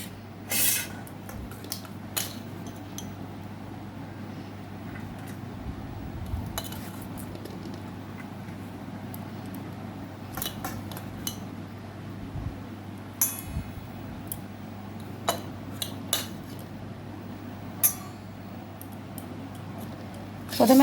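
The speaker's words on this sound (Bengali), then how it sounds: "মা মেয়ে দুজনের ভাত বেড়ে নিচ্ছি।" Dishes and cutlery clink and clatter softly and sporadically while rice is served onto plates for a home lunch, scattered taps in a quiet room.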